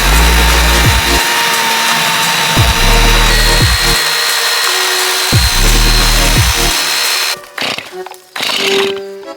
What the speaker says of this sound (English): Got the chainsaw out, let's get to it.